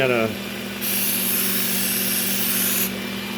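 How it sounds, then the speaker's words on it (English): Knife blade worked on a cloth belt of a belt sander, a steady close abrasive hiss over the motor's low hum, with a brief shift as the blade lifts and returns. "tend to have to work this burr on the cloth belt a little more than I'd like"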